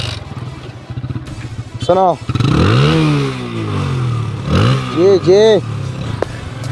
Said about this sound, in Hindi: बाइक को साउंड सुनाओ, जनता को